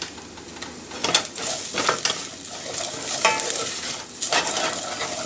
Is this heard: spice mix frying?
yes